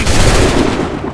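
Dense, continuous gunfire from a battle in the video game Assassin's Creed III, loud and close, a rapid overlapping volley that fills the whole moment with no voices on top.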